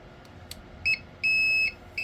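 An electronic power inverter gives sharp, high-pitched beeps: a short one, then a long sustained tone, then another begins, over a faint hum.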